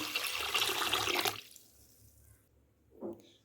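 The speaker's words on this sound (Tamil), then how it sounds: "இப்போ இது முழுகிற அளவுக்கு தண்ணி விட்டுக்கலாம்" Water pours steadily over soaking red rice for about a second, then stops; a brief splash or clink follows after a short quiet pause.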